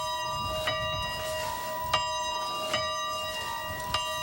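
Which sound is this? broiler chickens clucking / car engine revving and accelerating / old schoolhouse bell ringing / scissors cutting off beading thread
old schoolhouse bell ringing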